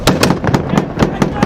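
Sniper gunfire during a firefight with the Taliban near a U.S. Army combat outpost in Afghanistan rings out as loud, sharp reports repeating every fraction of a second in a quick, uneven string.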